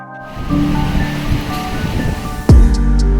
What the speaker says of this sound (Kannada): ಮತ್ತೊಂದೆಡೆ ಭೋರ್ಗರೆಯುತ್ತಿರುವ ಗಾಳಿ ಮಳೆ